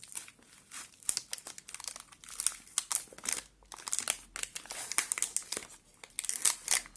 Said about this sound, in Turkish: Hadi paketi açalım bakalım nasıl bir şeymiş bu.